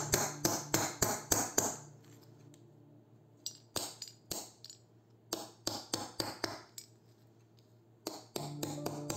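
A craft hammer pounds on a hard surface in quick bursts of sharp metallic taps, several rapid strikes in a row, then pauses and more clusters of hits, close and crisp with no talking.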